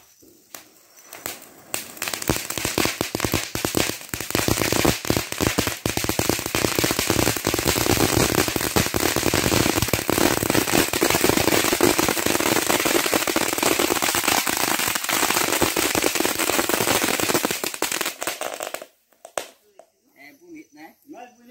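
A vulcão firework fountain crackles and sputters steadily at a São João bonfire, a dense, loud, continuous hiss of crackling lasting over fifteen seconds before cutting off, with voices nearby.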